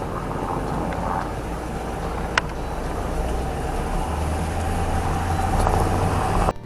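Car cruising along Iron Mountain Highway, the Peter Norbeck Scenic Byway in the Black Hills, heard from inside as a steady low road rumble and engine drone with a faint click partway through.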